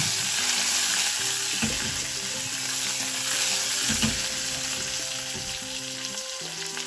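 Curry leaves sizzle and spit in hot oil, a steady close frying crackle with a few sharp pops and a low stirring clatter, no voices.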